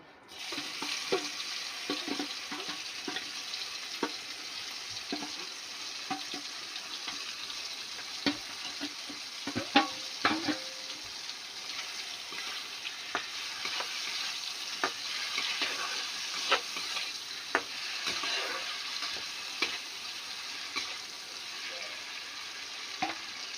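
Koi fish frying in hot spiced mustard oil for a tel jhal curry, giving a steady close sizzle dotted with sharp crackles and pops throughout, with no voices.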